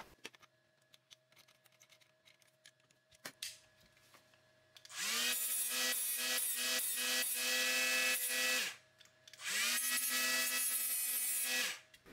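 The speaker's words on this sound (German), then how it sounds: "Ich habe jetzt hier so eine kleine Mini-Winkelschleifer von Bosch." A small Bosch mini angle grinder runs in two loud, sustained bursts of grinding and cutting, about three and a half and three seconds long, after some quieter handling noises.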